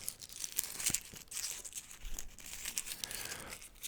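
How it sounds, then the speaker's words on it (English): Close crinkling of thin plastic sheet, irregular crackles and rustles with a few sharper crunches, no talking. "It's not quite paper, it's like that weird plastic paper."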